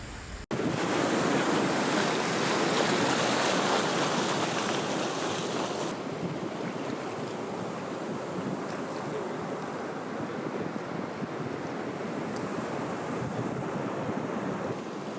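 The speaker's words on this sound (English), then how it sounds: "The waves break apart the island" Ocean waves break on a shifting sandy island, a loud, steady surf roar that fills the whole stretch, with a rougher burst at the start and wind buffeting the microphone throughout.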